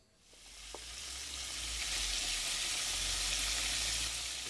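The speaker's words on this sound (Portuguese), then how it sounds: "Agora eu vou fritar e mostrar como é que vai ficar depois de fritinho" Breaded fish sizzles in a frying pan, with a bright, hissing fry that swells within the first second and then holds steady and fairly quiet, with no talking.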